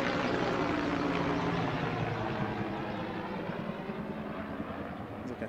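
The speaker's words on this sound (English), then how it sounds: "Look at the helicopter" A steady, loud rotor-engine drone of a helicopter fills the whole stretch, slowly fading slightly as it passes overhead.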